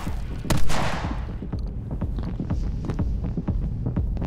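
Sniper rifle shots in My Friend Pedro thump out as a series of sharp, evenly spaced reports over a low throbbing game soundtrack, one heavier blast early on.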